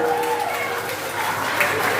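A short burst of clapping from a small group at a wedding, brief and fairly close, with a little crowd noise mixed in.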